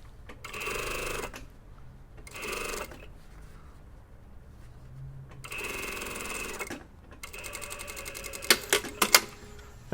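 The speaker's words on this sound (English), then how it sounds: "Okay, so I've sewn that along at 6mm." Sewing machine stitching jacket collar pieces at a 6 mm seam allowance, running in short close bursts of rapid whirring, with pauses between runs and a few sharp clicks and taps near the end.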